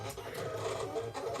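A vinyl cutter plotter drags its knife through plastic on a mat, giving a faint, busy mechanical whir with a printer-like rhythmic buzz and small pulses.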